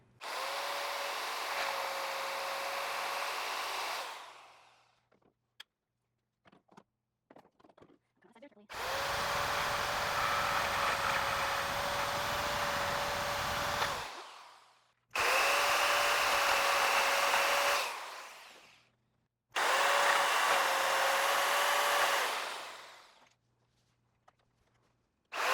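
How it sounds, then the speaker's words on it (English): A power saw with a fine finish wood blade cuts oak hardwood in four long, loud whining bursts separated by short pauses with faint knocks, close by. "I am using a fine finish wood blade, because this is hardwood, this is oak, and I do have it on my hardest setting"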